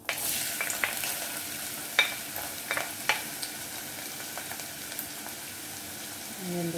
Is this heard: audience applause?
no